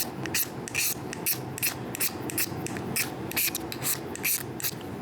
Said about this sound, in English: you go and you shave some shavings of the magnesium off, and they shave right off with this little,